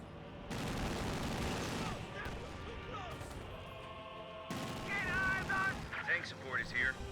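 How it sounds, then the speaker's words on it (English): A P-47 strafing run in Company of Heroes 2 tears through in a dense burst of rapid gunfire and impacts, easing off midway, then returning under a voice talking. "It is the P-47 straight run. But a lot of the rounds did connect with this garrison."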